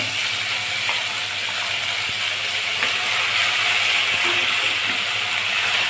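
Gravy added to hot oil with red cumin seeds sizzles steadily in a pan while being sautéed for kofta curry, a dense, constant hiss near and fairly loud throughout.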